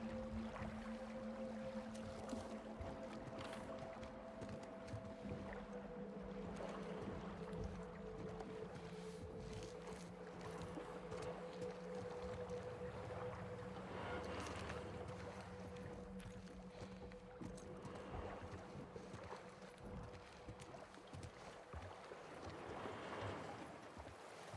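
Steady low engine drone of a boat moving across water in The Last of Us Part II, with continuous splashing and wash, faint and even throughout.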